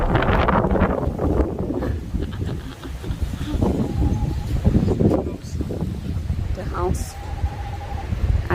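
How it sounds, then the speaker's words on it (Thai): Strong wind buffets the microphone outdoors in a leafy, tree-filled B&B garden in Wexford, Ireland, a loud continuous low rumble with gusts throughout, with a voice talking intermittently over it. "วันนี้ลมแรงค่ะเพื่อน"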